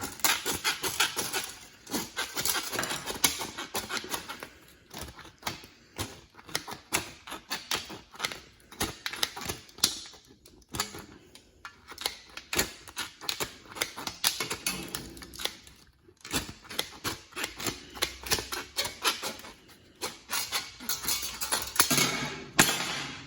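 Milwaukee offset aviation snips slice through thin 30 gauge sheet metal in a long run of quick, sharp clicking snips that repeat steadily and close up, with only brief pauses between bursts.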